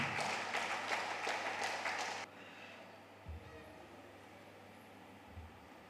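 A Lions Club installation programme audience gives the new club CEO a burst of applause that lasts about two seconds and stops abruptly, leaving a low hum and faint thumps.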